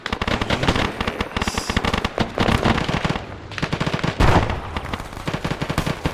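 Machine gun fired by the gunner of an MT-LB armored vehicle in the Arma 3 war game, loud close rapid bursts of automatic fire with short pauses between strings of shots.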